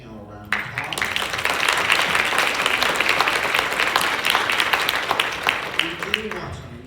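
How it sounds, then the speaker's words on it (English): Audience at an education conference applauding a panel, a dense burst of clapping that swells in after a brief voice and fades near the end as speech returns. "Please give this panel a round of applause."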